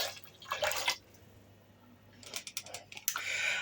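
Vinegar splashes into a pot of boiled marinade in two short pours separated by a pause, close and fairly quiet, with soft dripping sounds.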